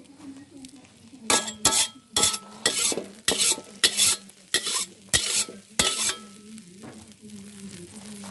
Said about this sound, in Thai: ผัดเห็ดน้ำมันหอย